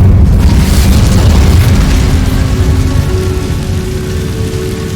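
A burst of fire from the Incendio spell in Hogwarts Legacy roars out loud and close, a dense whooshing rumble that starts abruptly and holds strong before slowly easing, with no talking.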